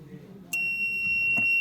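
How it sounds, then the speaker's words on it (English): A smart house model's buzzer sounds after its heat sensor is touched: a sudden high, steady electronic tone cuts in partway and holds, over faint background voices and handling noise. "the buzzer starts to give a signal"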